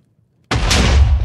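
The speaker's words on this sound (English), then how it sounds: "Explosions." Minecraft explosion, a sudden loud booming blast that bursts out of silence and rumbles with crackling debris for the rest of the moment.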